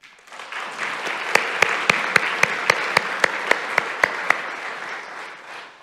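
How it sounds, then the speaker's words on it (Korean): A church congregation applauds during a Sunday service, a broad wave of clapping that swells in, with one close clapper keeping a steady, evenly spaced beat before the applause fades away. "잠깐만 일어나시면 박수하겠습니다"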